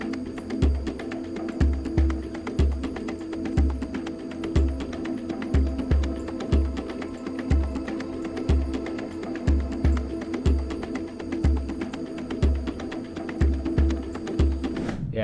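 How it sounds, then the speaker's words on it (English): Synth pad chords with shimmer reverb whose feedback is being modulated, a steady sustained wash over a repeating low pulsing beat, alone with no talk. "I'm going to take this pad, then I'm going to modulate this feedback here from the shimmer reverb."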